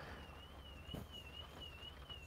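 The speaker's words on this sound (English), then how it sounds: "somebody's alarm went off" A distant car alarm wails faintly in a steady warbling tone over low background noise, continuing throughout with no talking.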